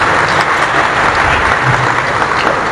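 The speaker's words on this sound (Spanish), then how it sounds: "un aplauso nuevamente de gratitud" Church congregation applauding in gratitude at the close of a service, a steady, dense wash of clapping from many hands that fills the whole stretch without pause.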